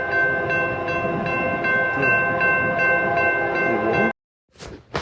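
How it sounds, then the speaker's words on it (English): A train rolls past with a sustained horn tone and a regular rhythmic clatter, then cuts off abruptly into near silence. "If you look really closely, the train is coming."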